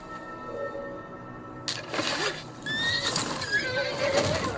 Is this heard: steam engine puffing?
no